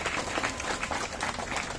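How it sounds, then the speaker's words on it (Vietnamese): Audience applause for a guest speaker, a former FPT chairman, at an evening tea gathering at Ho Van by the Temple of Literature; a dense patter of many hands clapping, steady and fairly close, with no talk. "cùng quý vị xin một tràng pháo tay thật lớn cho ông Hoàng Nam Tiến ạ."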